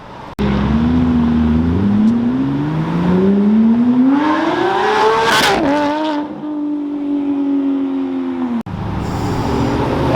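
Ferrari sports cars leaving a Ferrari festival in Houston, one loud engine revving up through rising gears, peaking in a sharp howl, then settling into a sustained drone as it pulls away nearby.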